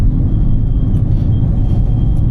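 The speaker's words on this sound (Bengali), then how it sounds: "তো রেভ লিমিট পর্যন্ত চলে গেছে, তবু আপনারা সাউন্ডটা একটু ভিডিওটা পিছিয়ে নিয়েও দেখতে পারেন" A Bangladeshi auto-rickshaw engine is held in third gear and revved hard toward its limit, giving a loud, close, unbroken mechanical roar with no speech.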